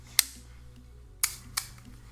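A chrome-plated plastic film camera fires its shutter: three sharp, separate clicks spaced apart, close and crisp against near silence, with no voices.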